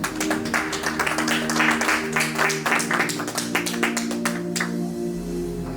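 A church congregation applauding, a dense stretch of rapid clapping layered over a steady sustained musical tone, fading out near the end as the tone continues alone.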